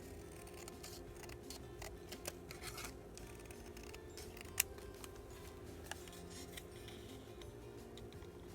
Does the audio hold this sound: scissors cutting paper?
yes